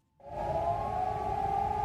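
A civil defense siren sounds during a radio news report on floods in western Germany. A single sustained wailing tone starts abruptly and holds steady and loud to the end.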